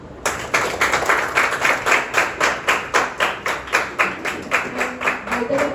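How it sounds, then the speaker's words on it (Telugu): An audience at a scholarship fund launch event claps together in a warm round, with loud, steady, rhythmic applause that keeps a close, even beat throughout. "so once again warm round of claps to home"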